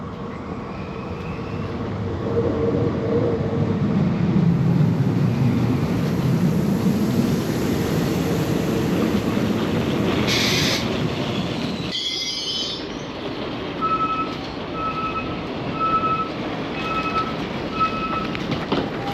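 A passenger train rumbles steadily into a station in France, wheels squealing briefly partway through, then the rolling fades and a chiming tone repeats several times in the background.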